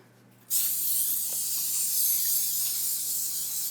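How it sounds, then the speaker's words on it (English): A steady, loud hiss of aerosol cooking spray onto a glass 9x13 baking dish starts abruptly after a brief quiet moment and continues for about three seconds before cutting off. "get a glass 9x13 out and spray it"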